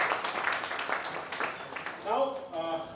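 Applause breaks out from an audience at a medical conference, a steady wash of clapping under speech that fades as a voice continues.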